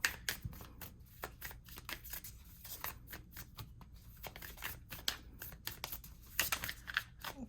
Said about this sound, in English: I'm going to pull one oracle card from you from the Love Story Oracle for group 1